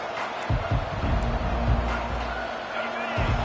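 A stadium crowd roars and cheers steadily through an NCAA Football 25 game between Georgia and Alabama, broad and continuous, with thumping impacts and a voice talking over it.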